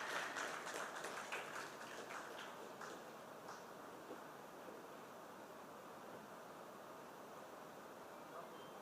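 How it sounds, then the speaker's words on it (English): An audience at a national seminar on road safety gives a round of applause, a dense wash of clapping with a few crisp claps at the start that slowly settles into a faint, steady patter. "please help me invite with a round of applause Dr. Ravi Shekhar"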